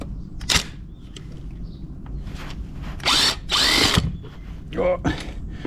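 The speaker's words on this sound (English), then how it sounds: "now hopefully I can go back to the impact wrench" Impact wrench bursts on the clutch of a Mini R53, heard as a few short, loud buzzing rattles near the end, separated by quieter workshop noise with brief sharp mechanical clicks.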